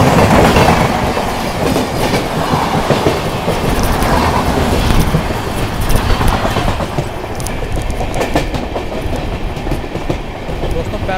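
The New Delhi–Darbhanga Bihar Sampark Kranti express, hauled by a WAP-7 electric locomotive, rushes past close by with a loud, continuous roar and rhythmic clatter of wheels over rail joints throughout.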